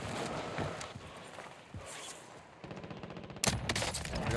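ZRG sniper rifle fire in a video game comes as a few sharp shots with game ambience and a brief burst of rapid clatter near the end.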